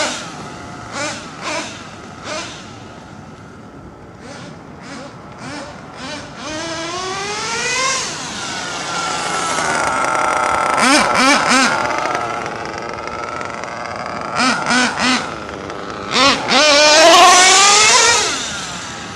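A car's engine accelerates at three-quarter throttle on a short street, with several brief revs rising in pitch through the gears, loud and close, and no talking.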